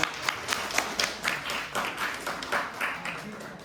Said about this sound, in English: So let's give a big applause to our host today, Junfan.